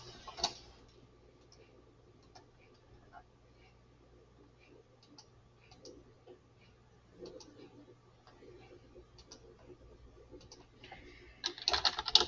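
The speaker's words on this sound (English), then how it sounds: "I'm going to type this." Typing on a computer keyboard, scattered soft key clicks in short irregular bursts over a quiet background, growing busier toward the end.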